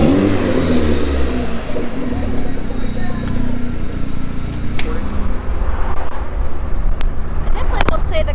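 A lifted Mazdaspeed on a test drive, its engine droning and revving steadily from inside the cabin alongside road and wind noise, with a few sharp knocks near the end.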